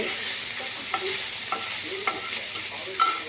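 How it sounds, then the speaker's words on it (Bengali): Fish, including prawns and morala, frying lightly in a pan, a loud continuous hissing sizzle with soft periodic stirring scrapes roughly every half second. "মাছ ভাজা হচ্ছে।"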